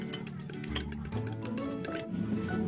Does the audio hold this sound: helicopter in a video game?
no